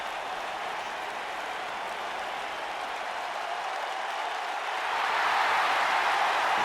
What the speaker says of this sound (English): this crowd absolutely on fire for Aleister Black. Listen to the ovation.